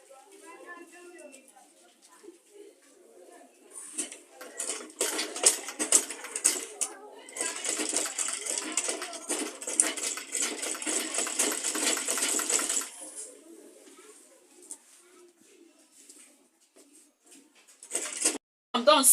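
A sewing machine stitches the edges of an insulated school lunch bag, running in a dense, steady burst through the middle of the clip, with quieter handling noises before and after and a person talking throughout.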